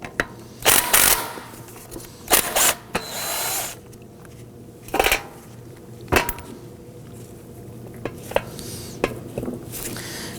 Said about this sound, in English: 19mm socket, we'll get that nut off.